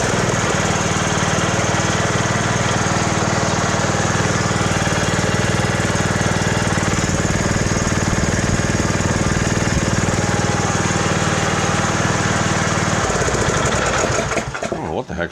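A Yardworks riding mower engine runs loud and close right after its first oil change, a steady rough drone that cuts off near the end.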